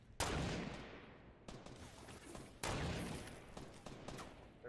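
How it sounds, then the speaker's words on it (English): Gunshots in the Fortnite Battle Royale video game, several loud, sharp reports with long ringing tails, fired in quick succession and close by, with no talking. "I hear shots popping off"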